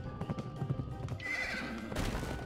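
A horse in the video game Pumpkin Jack gives a whinnying neigh over quick clip-clopping hooves, moderately quiet, the neigh rising in the middle and the hoofbeats continuing around it.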